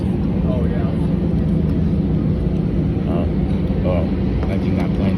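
An American Airlines Airbus A319 airliner taxiing, a steady loud engine rumble that runs unbroken throughout while people talk over it.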